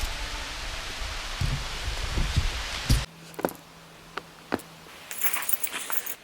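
Rain falls on a wooded mountain bike trail, a dense hiss of drops through the first half before fading to sparse rustles and a few sharp knocks, with no voices.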